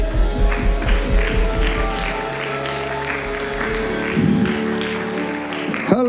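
A church congregation clapping along in rhythm during a miracle healing service, steady claps over sustained music, the clapping thinning out partway through.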